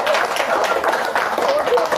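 An audience at a meditation talk in Hyderabad claps together, a dense, continuous wash of hand claps that lasts the whole moment with a voice faintly audible underneath.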